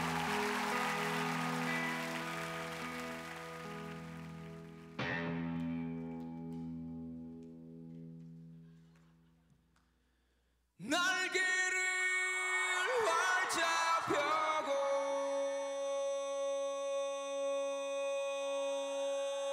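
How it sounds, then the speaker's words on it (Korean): Studio audience applause and cheering on a Korean TV music show as two bands are introduced; the dense crowd noise gradually fades over about ten seconds before music begins. "박수 주세요."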